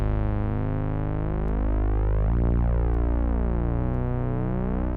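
Prophet 6 synthesizer chords sit over a sub bass line and a second Prophet 6 bass, a thick continuous droning tone with slowly sweeping, shifting harmonics, steady and close, with no voices.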